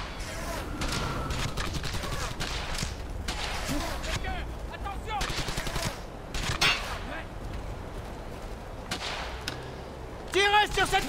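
Dense gunfire from the WWII shooter Brothers in Arms: Hell's Highway, a steady stream of sharp shots and bursts rattling throughout, with a louder cluster near the end, while someone talks over it.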